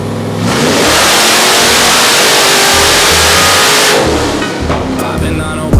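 A rock bouncer buggy's engine revs hard on a dyno, holding a loud, sustained roar for several seconds before dropping off, close and dominant.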